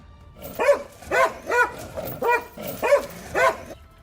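A dog barking at a creature inside a cave, six evenly spaced, tense barks with a whining edge, fairly loud and slightly hollow, over faint background noise.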